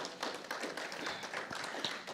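A short burst of applause from a small group at a memorandum of understanding signing ceremony, scattered claps blending into a brief patter.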